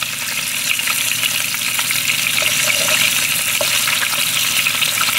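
General Tso's chicken balls sizzle and crackle in hot oil, a constant hiss with scattered pops and spatters, close and loud.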